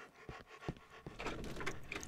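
A dog in the horror video game Cry of Fear pants rapidly and steadily in short rhythmic breaths, fairly quiet and close, with no talk over it.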